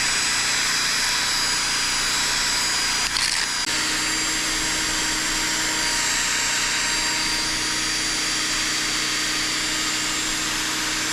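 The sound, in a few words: brass wire wheel polishing zinc-plated pinion flange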